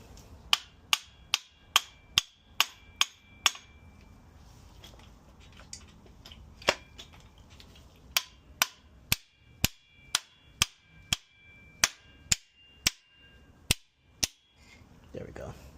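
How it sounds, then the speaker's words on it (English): Sharp metallic hammer blows on a BMW junkyard engine part, delivered in quick, evenly spaced runs of about a dozen hits with a short pause between bursts, close and loud. "this side always need a little few hits with the hammer"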